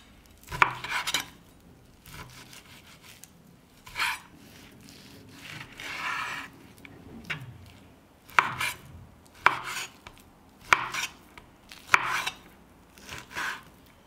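A knife cuts 1.3 kg of fatty beef neck into smaller pieces, making close, sharp chops and thuds in an irregular rhythm with brief scraping between cuts. Nobody speaks.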